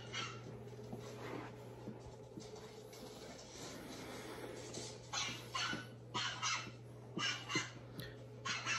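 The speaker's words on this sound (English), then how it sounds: "Did you guys really find a puppy and bring it in this house?" A small found puppy yelps and whimpers indoors, with several short bursts in the second half over a steady low hum.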